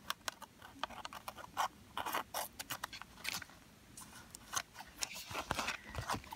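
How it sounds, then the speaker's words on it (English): Scissors snip cardstock up close, making a quick irregular series of crisp, quiet cuts and paper rustles against a soft, low background. "make sure I need to snip a little bit off of here"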